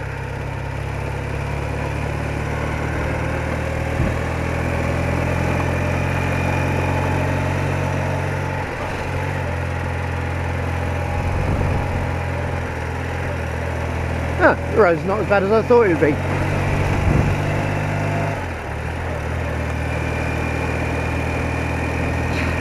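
An old motorcycle engine runs steadily while the rider travels along a road in the rain, a low constant drone with a brief louder rattling burst midway; someone talks over it.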